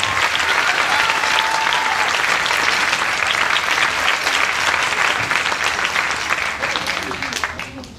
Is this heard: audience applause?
yes